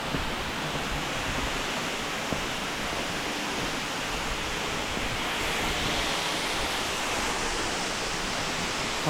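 A waterfall heard from behind the falls pours in a dense, loud, unbroken roar of rushing water that fills the space evenly throughout.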